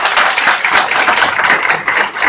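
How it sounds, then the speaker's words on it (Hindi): An audience claps loudly and densely in a continuous burst, close and full, with no talking over it. "एक बार उनकी हौसला अफजाई के लिए जोर से ताली बजाएं।"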